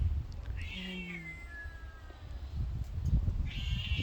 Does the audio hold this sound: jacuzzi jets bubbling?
no